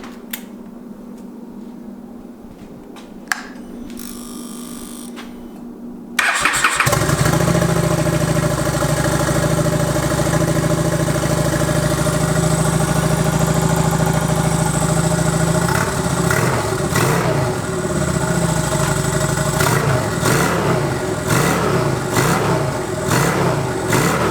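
A few faint clicks and quiet background, then a turbo motorbike engine abruptly fires up and settles into a loud, steady idle with occasional small revs.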